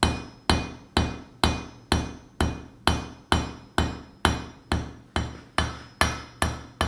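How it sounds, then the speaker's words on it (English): A blacksmith hammers a steel bar into a taper on the edge of the anvil: fourteen loud, sharp, evenly spaced ringing blows, each with a short decay, in a steady rhythm with no talk. "I'm using the edge of the anvil to draw out the material"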